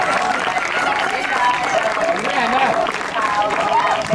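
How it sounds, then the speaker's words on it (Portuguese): An audience at a Porto athletics meeting applauds young girls finishing a 500 m under-9 race: continuous, dense clapping from a crowd, steady and fairly loud, while a commentator talks over it. "Vamos continuar a aplaudir estas jovens atletas."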